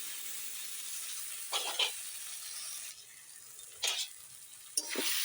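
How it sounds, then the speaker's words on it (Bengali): Tomato and dried red chilli sizzle in a pan for a small river fish curry as they are stirred. Three short scraping bursts rise over a soft, steady hiss. "টমেটো আর শুকনো লঙ্কা দিয়ে একটু ভালো করে নেড়ে দিই।"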